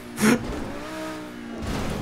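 A car engine in GTA 5 Online, a sharp whooshing burst followed by a sustained, steady engine drone and a second swell near the end.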